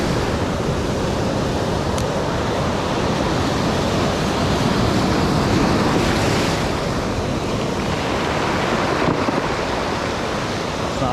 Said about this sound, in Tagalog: Alon.